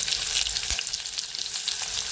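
Onion, cardamom and cinnamon sizzle steadily in hot oil in a home kitchen, a continuous bright crackle with a soft stir or bump near the start, close and alone with no talking.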